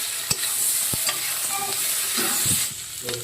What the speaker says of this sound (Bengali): এরপরে দেবো হলুদ গুঁড়ো এবার আমি ভালো করে কষিয়ে নেবো